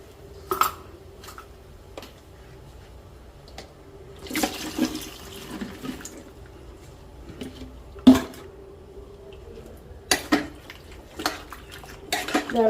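Mango pieces being stirred into cooled pickle masala in a pot, giving soft scattered clinks, scrapes and wet thuds at close range, with no talk.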